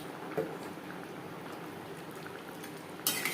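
Pangas fish curry gravy simmers in a pan with a faint, steady bubbling hiss and a couple of brief louder pops, heard at low volume.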